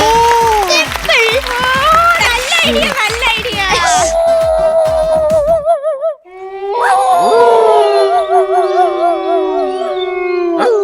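A dog howls in long, wavering, rising and falling cries, loud and close, with a brief pause partway before the howling resumes. Other sounds blend in beneath the early part.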